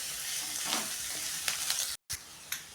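Carrots and cucumber fry in a pan with a steady close sizzle, broken by a few sharp scrapes and clicks of stirring and one brief cut to silence.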